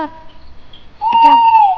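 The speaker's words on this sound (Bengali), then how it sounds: "খরখুশ পাখি চিৎকার" A night bird's screech rings out in the dark, a single loud drawn-out cry following a quieter tonal lead-in, close and isolated.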